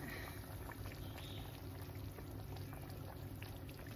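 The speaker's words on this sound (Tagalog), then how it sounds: "And continue boiling inside the oven." A pot holding a leg of lamb bubbles in a steady, faint boil for several seconds, a low continuous simmer heard alone without talking.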